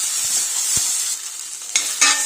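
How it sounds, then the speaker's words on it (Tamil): Ginger garlic paste sautéing in a pan for a rajma potato curry, a steady close sizzle with a few scraping stirs and knocks of the spoon, and no one speaking. "பச்சை வாசனை போகிற வரைக்கும் நல்லா இஞ்சி பூண்டு பேஸ்ட் நல்லா கொஞ்சம் வணக்கிக்கலாம்"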